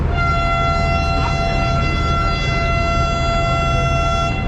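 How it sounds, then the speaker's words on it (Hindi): A train departure whistle sounds as the train starts moving, a sustained loud steady horn tone held for several seconds over a low rumbling engine drone. "सेकंड डिपार्टिंग विसल भी हो चुका है और ट्रेन मूव होना शुरू"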